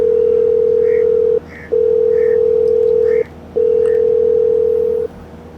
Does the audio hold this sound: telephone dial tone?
yes